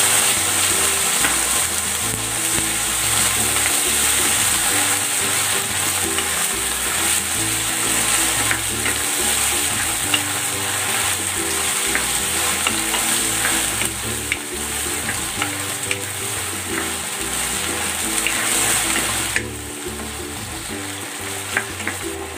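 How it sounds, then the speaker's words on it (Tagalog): Beef sizzles loudly in a pan with freshly poured homemade black pepper sauce, a continuous close frying hiss broken by the clatter and scrape of steady stirring, with no voices. "Ilalagay ko na dito yung beef. At ibubuhos ko na yung ginawa kong sauce."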